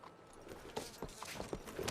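Hooves of a horse in Red Dead Redemption 2 clop at a slow walking pace, a handful of soft, evenly spaced steps over a faint outdoor background.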